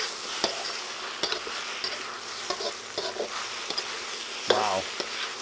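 Parsley is stirred into pasta with broccoli in a sizzling pan with white wine sauce, a steady frying hiss broken by sharp scrapes and clinks of a utensil against the pan, close and clear.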